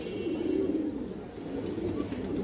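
Pigeons kept as lively pet birds coo softly and continuously in a low, murmuring drone, close by with no talk over them.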